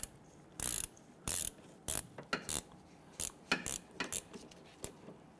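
A hand ratchet snugs down the rear brake caliper bolts on a 2011-2015 Kia Sorento, clicking in a series of short, close bursts with brief pauses between strokes.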